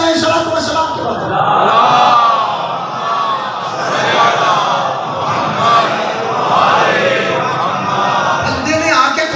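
A large crowd at a Shia religious majlis in Peshawar chants slogans in loud unison, with rising and falling waves of voices that continue throughout.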